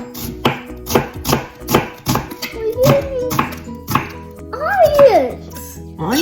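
A knife chops onions on a board in a steady series of close, sharp thuds, while a voice chatters over the chopping.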